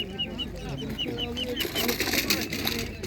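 Ducks at an outdoor animal market in Ivano-Frankivsk give repeated high, thin peeps in a quick, regular series, fairly close, over a murmur of market noise and voices.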